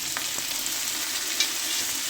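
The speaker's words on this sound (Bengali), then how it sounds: "এই তেলের মধ্যে পেঁয়াজ রসুন আদা লঙ্কা সব এগুলো ভাজবো" Steady, dense sizzle of onion, garlic, ginger and green chilli frying in oil, close up and even throughout, with a faint stir or pop partway through and no talking.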